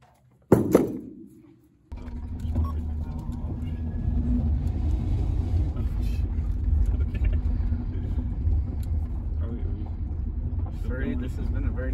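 A car's steady engine rumble fills the cabin during a drive through Afghanistan, continuous and close after an opening thump, with occasional faint voices over it.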